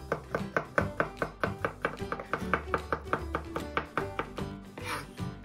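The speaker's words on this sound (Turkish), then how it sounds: "Öncesinde kornişon turşumuzu küçük küçük küp küp parçalar" Brisk knife chopping of pickled gherkins into small cubes on a cutting board, a steady run of sharp close taps in quick rhythm, with no talking.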